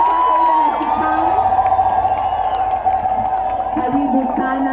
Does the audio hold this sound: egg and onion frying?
no